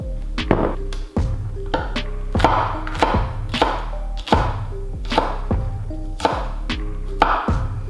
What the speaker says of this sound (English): the first thing you're gonna wanna do is cut up your pepper